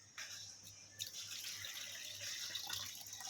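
Water from a bottle pours into a mug in a continuous light trickling splash, fairly quiet and steady for a few seconds with no voices.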